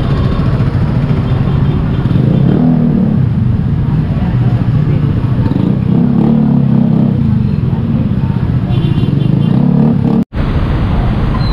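Heavy road traffic with motorcycles and cars rumbles steadily and loudly close by, a continuous engine drone with a brief dropout near the end.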